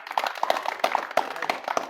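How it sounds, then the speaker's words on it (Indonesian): Scattered clapping from a small class group, a few pairs of hands striking in a loose, uneven rhythm for about two seconds, close and moderately loud with no talking. "Tepuk tangan dulu."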